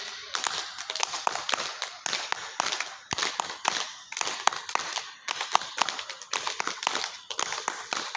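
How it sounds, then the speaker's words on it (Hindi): A group claps hands loudly during a yoga session, a steady run of sharp, fairly even claps repeating for several seconds in a room. "अब बजाएंगे ताली हम जोर से"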